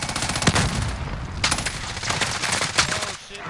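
Grenade blast and bursts of gunfire in a video game firefight, loud and close, with repeated sharp broadband cracks across the whole stretch and faint voices under the shooting.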